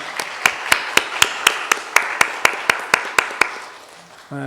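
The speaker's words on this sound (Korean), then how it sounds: "여러분이 이들을 위해서 감사의 박수를 한번 하겠습니다" A church congregation at a founding anniversary Sunday service claps in a slow, even unison rhythm, about fourteen crisp, evenly spaced claps, before the clapping stops and a short hum follows.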